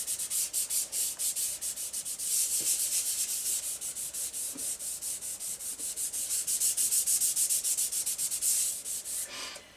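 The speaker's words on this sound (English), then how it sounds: "I'm going to take a sanding pad and lightly sand up a few of these lines." Steady rhythmic rubbing of a sanding pad lightly sanding a woodburned wood surface, quick back-and-forth strokes repeating evenly for several seconds, close and fairly quiet.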